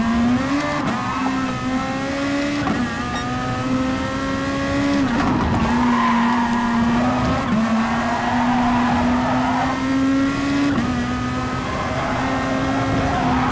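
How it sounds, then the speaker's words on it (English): Race car in an F1 video game, its engine droning loudly and steadily with repeated pitch rises and dips as the wheels spin and the tyres squeal, continuous throughout with no talk. "Particularly when it comes to wheel spin."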